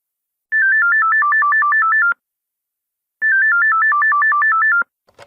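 A telephone rings in two bursts of warbling electronic trill, each lasting about a second and a half, separated by a pause, loud and clear with no voices.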